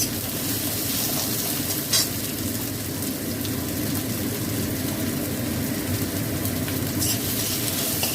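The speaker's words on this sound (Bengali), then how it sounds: "পেঁয়াজটা ভেজে নেবো আগে আমি" Chopped onion fries in hot oil with a dense, continuous sizzle and a low rumble underneath, broken by an occasional scrape of a utensil.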